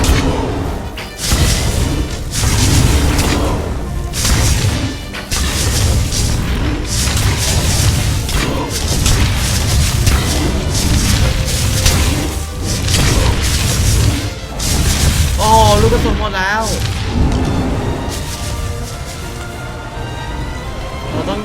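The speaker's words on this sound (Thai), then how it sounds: "นี่ยิงไปจนลูกกระสุนจะหมดแล้วนะ ยังไม่สลบอีกเหรอ" Sustained heavy gunfire and booming explosions from a player shooting at a lava dragon in the video game Ark Survival, loud dense thuds and crashes with brief gaps and a few warbling creature sounds near the end.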